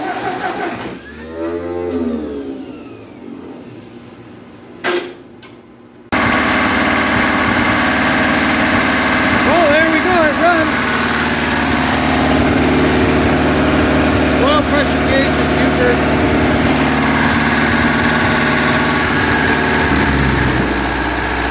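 A 1948 Ford 8N tractor engine cranks and sputters briefly, then catches and runs at a steady, loud idle close by for the rest of the time.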